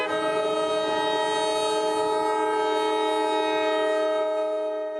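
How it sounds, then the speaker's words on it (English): A train horn blares in one long, loud, sustained chord at a railroad crossing, heard close and continuous, fading slightly at the end. "A train is coming."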